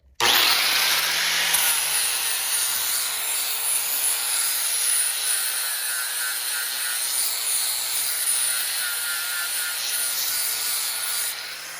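A power sander with 40-grit paper grinds a rough spot on a robot, giving a loud, continuous abrasive whir that starts abruptly and holds steady without a break.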